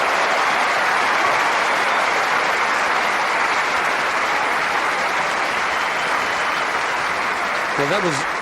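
A tennis crowd at Wimbledon applauds steadily throughout a Federer–Sampras match in 2001, a broad, even wash of clapping with a brief voice near the end.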